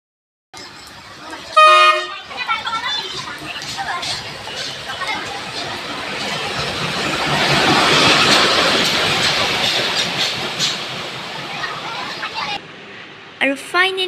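A train pulls into a railway station in Dhemaji, Assam, sounding a loud horn blast early on, its rumbling roll swelling in the middle, then a second short horn near the end, with people talking nearby.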